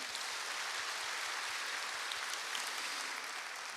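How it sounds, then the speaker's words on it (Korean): A congregation at a Korean church Sunday morning service claps to welcome new members, a faint, even wash of applause heard from a distance without pause. "동산의 가족이 되신 분들에게 마음을 담아 박수로 환영하겠습니다."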